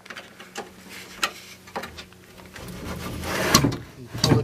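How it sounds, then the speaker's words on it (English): Someone pulls a bamboo dresser drawer out along its slides, and the close wooden rubbing and sliding clatter grows louder toward the end. "Pull the drawer out to make sure it's good."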